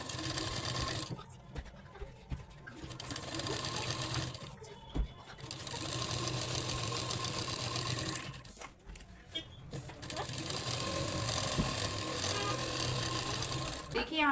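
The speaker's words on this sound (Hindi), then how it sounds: "तो इस तरीके से हमें सबसे पहले क्रॉच एरिया अपना सिल लेना है इस तरीके से" A sewing machine stitches the crotch seam of an Afghani salwar, running in steady whirring bursts broken by short pauses, close and fairly loud.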